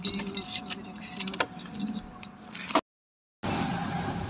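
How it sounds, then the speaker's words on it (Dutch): Keys jangle close by in a rapid, metallic clinking burst lasting a couple of seconds, followed by a brief silent cut and then steady background noise. "En ik heb de sleutel."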